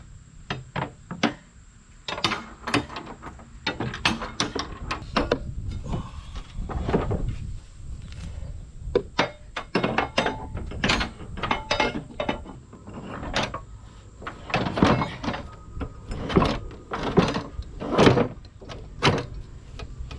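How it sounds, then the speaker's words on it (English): Mechanical clanks and ratcheting clicks come from a manual deck lever being lifted on a John Deere riding mower, a series of sharp metallic knocks and scrapes, close and irregular, with no talking. "I'm just lifting that lever that's on the other side."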